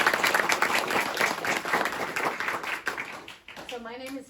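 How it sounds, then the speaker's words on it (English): Enthusiastic clapping from a crowd fills the room for several seconds, then fades out as a voice begins speaking. "how about a round of applause for your parents?"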